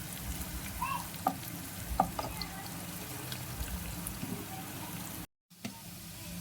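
Onions and curry leaves fry in oil for a dhaba-style chicken curry, making a soft, steady sizzle with a few sharper stirring clicks. The sound cuts out briefly near the end.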